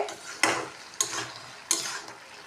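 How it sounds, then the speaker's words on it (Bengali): Bottle gourd cooking with dried fish in a pan, three distinct scraping stirs with a utensil over a soft steady sizzle, close and moderately loud. "রান্না করছি দেখো এই দেখো লাউ আর শুটকি মাছ দিয়ে"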